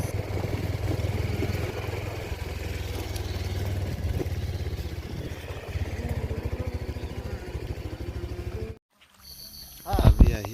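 A motorbike ridden along a rough, poorly kept road in Arunachal Pradesh heading toward a waterfall, its steady engine drone and road rumble running loud and continuous before cutting out, followed by a brief closer burst of sound.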